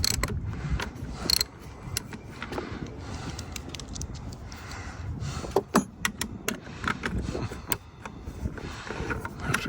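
Screw being worked out of a power generator's assembly: a steady run of small metallic ticks, scrapes and clicks, close up and moderately loud, with a few sharper clanks near the middle and no talking.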